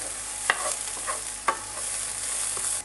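Onion and garlic cook in a pan over medium heat with a steady, hissing sizzle, while a utensil stirs through it and makes a couple of brief scraping clacks.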